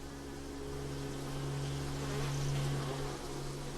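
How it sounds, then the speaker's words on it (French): A swarm of honeybees buzzes steadily and close by, a dense droning hum with a few louder passes of individual bees, and no voices. "avant le début du test, les abeilles doivent être regroupées et nourries avec une solution sucrée"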